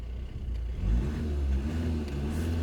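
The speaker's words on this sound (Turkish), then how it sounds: "Aracın bir motor sesinizi dinleteyim mi?" Volkswagen Tiguan 2.0 TDI Comfortline 4Motion diesel engine heard up close as it revs up from idle to a steady, loud, rumbling high rev that holds to the end, with no talking.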